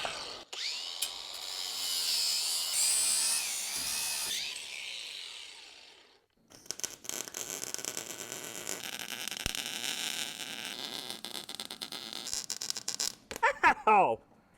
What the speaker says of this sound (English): I'm gonna do a little grinder action first